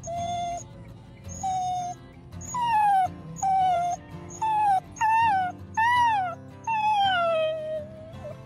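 A pit bull whimpers and whines in a series of about ten drawn-out, falling high-pitched cries, each separated by a short pause, close and clear.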